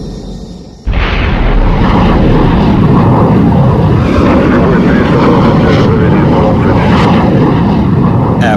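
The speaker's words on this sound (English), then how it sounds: "The MiG-19 mounted on a mobile launch site was virtually shot into the sky" A MiG-19 jet fighter blasts off a mobile launch site on a powder booster, a sudden loud roaring onset that holds as a dense, sustained rumbling thrust for several seconds.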